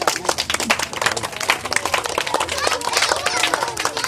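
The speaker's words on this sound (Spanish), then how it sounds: "le vamos a dar un aplauso al señor Víctor. Un fuerte aplauso." An audience at a December 25, 2020 gathering bursts into loud, dense applause, with rapid overlapping claps sustained for several seconds alongside some voices.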